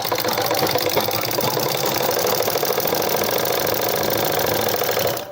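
A sewing machine runs steadily and loudly while stitching a women's shirt, giving a continuous, even mechanical whirr for about five seconds before it stops at the end.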